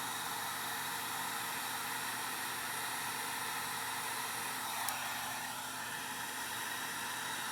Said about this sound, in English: Alright, let me plug the heat gun in. Alright, now heat it up.